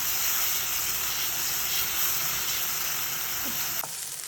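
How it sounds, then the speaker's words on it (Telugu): Chopped onions sizzle and hiss steadily in hot oil for a chicken fry, a dense continuous frying noise at close range with no one talking. "బాగా ఆనియన్స్ మాత్రం మంచిగా వేగనిద్దాము"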